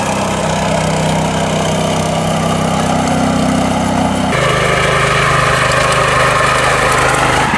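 Close and loud, the engine of a Raja Bhai R-750 power tiller drones steadily while working in deep mud, its tone dropping partway through and then carrying on.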